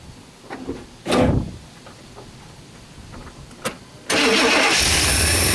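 A 1988 Chevy engine cranks and catches in a short loud burst, then after a quieter gap with a brief knock it settles into a steady, loud idle after a cold start.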